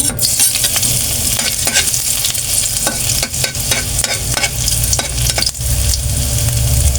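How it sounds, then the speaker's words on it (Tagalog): Ginger, garlic and onion sauté in hot oil as the base for squid adobo: a loud, steady sizzle with scraping stirs and brief clatters running throughout, no voices. "So, igisa na natin, guys. Mainit na yung ating mantika."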